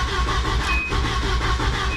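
A Volvo 940 engine cranks with a rapid, rhythmic chugging from the starter, loud and close, heard alone without voices.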